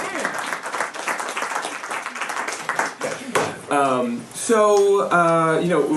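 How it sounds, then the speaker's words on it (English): An audience at a conference applauds with a burst of clapping that fades out. Talking and a voiced, tonal sound take over in the second half. "round of applause for Jared for bolting through that."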